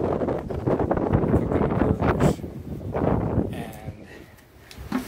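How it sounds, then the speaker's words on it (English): Strong gusting wind batters the microphone outdoors by a pavilion at a campsite, a continuous roaring rush with rustling that swells and eases, loud throughout. "Okay, it has turned so windy"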